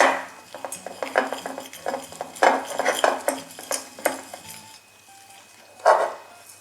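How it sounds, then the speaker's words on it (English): Homemade chocolate is stirred with vanilla extract in a bowl. A utensil scrapes and clinks against the bowl in quick, rhythmic strokes, then slows to a few quieter taps and one last louder scrape, all close and with no voices. "you just mix it together until you get the consistency of melted chocolate"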